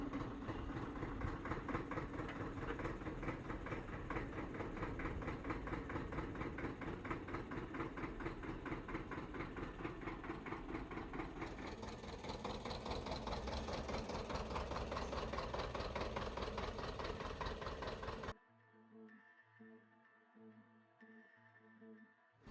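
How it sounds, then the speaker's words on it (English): An old forklift engine runs with a steady, knocking mechanical chug at close range for most of the stretch, then stops abruptly and leaves quieter tonal sounds. "My friend got a quick lesson on how to operate this old forklift."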